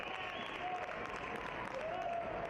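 Stadium crowd at a U.S. Open Cup soccer match between Louisville City FC and Southern Indiana FC applauds a goalkeeper's catch, a steady distant wash of clapping beneath a commentator's voice.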